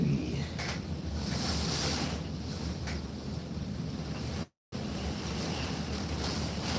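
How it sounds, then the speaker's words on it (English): Gusty hurricane wind from Hurricane Ian at night in Lakeland, a steady roaring rush of air buffeting the microphone, loud and continuous with a brief dropout midway. "it's getting gusty"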